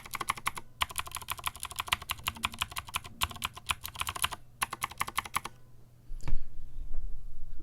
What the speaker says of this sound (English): they are very thick keycaps, and I think that having them as thick keycaps do make a big difference in their sound